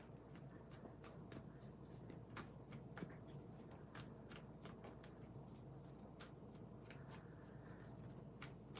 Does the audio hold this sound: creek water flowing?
no